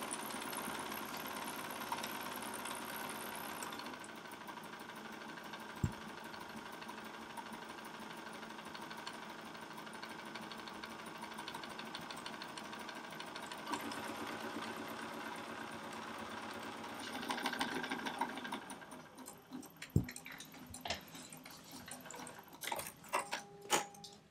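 A computerized quilting machine runs a batting placement line for a 6-inch quilt block, giving a steady, moderately loud mechanical hum and whir throughout, with a few sharp clicks and some rattling near the end.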